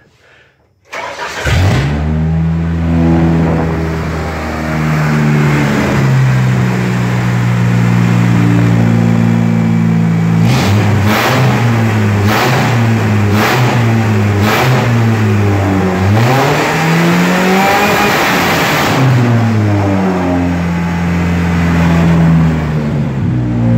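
A race car engine cranks and fires after an overnight battery charge, then idles loudly and close with a strong, lumpy note, broken by a series of sharp throttle blips and revs that rise and fall.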